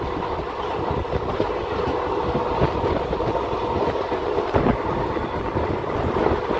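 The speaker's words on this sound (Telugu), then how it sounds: "చూడండి ట్రైన్ ఎంత లాంగ్ ఉందో" A long passenger train runs along the tracks between Madanapalle and Tirupati, heard from on board as a steady close rumble with rhythmic clickety-clack of wheels over rail joints, no voices.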